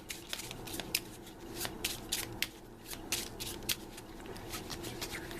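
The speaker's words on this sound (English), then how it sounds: "So I'll give this a shuffle." A deck of cards is shuffled by hand for the board game Maximum Apocalypse, giving quick rippling riffles and soft slaps close up in a quiet room.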